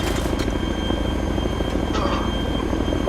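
Steady, loud helicopter rotor drone from a military video game firefight mission, continuous and close throughout, with a brief burst of noise near the start.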